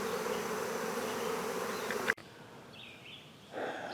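Honeybees fly around newly transferred hives with a soft, steady buzzing hum, fairly faint and outdoors. It cuts off abruptly halfway through and leaves quieter background with a faint buzz returning near the end.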